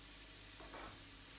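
Onions sizzle steadily in a pan for an omelette, a soft, even frying hiss throughout with no talking.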